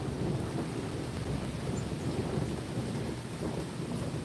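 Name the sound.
thunder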